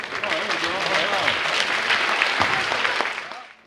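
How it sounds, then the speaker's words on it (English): A ribbon-cutting at a South Jersey clap-in for children and parents draws a crowd's steady applause, dense and loud from the start, with voices mixed in and the clapping tapering off at the end. "So let's give a round of applause"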